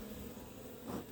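Angry honey bees buzz steadily inside a homestead hive, a dense, continuous drone close to the ear that swells briefly near the end.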